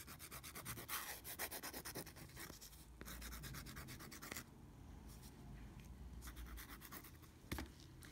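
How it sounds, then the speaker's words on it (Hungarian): A fine nail file scrapes repeatedly across the tip of a fingernail during a gel polish manicure, giving close, quiet, rapid rasping strokes in a steady back-and-forth rhythm with a few short pauses. "De előtte még egy finom reszelővel meg fogom reszelni a legvégét"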